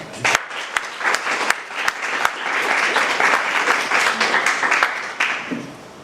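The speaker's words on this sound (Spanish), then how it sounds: "le queremos dar con este aplauso una bienvenida" A room of people applauds to welcome a speaker at a professional dialogue event, starting with scattered claps that swell into full, loud clapping before tapering off.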